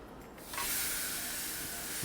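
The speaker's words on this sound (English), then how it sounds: "That sizzle." Pork tenderloin hitting the grates of a Ninja Foodi Smart XL grill, a loud broad sizzling hiss that swells suddenly and holds steady.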